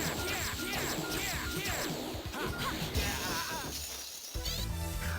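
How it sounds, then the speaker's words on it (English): Glass smashes repeatedly in the video game Sin & Punishment, three loud shattering crashes in quick succession over busy game sound effects and music, close and dense. "the glass is gonna break 3 times in a row"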